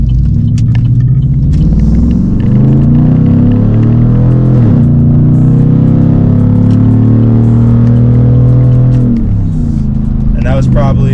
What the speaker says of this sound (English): my truck is loud. Here you guys go.